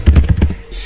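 Keys tapped on a computer keyboard at a desk during an SQL database lesson, a quick run of several close, crisp clicks with no talking over them.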